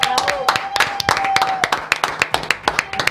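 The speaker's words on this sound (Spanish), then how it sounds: "Este aplauso es para Julia Rosa" Sparse, uneven clapping from a few people in a TV studio, heard as distinct sharp hand claps rather than full applause, with a voice talking over part of it.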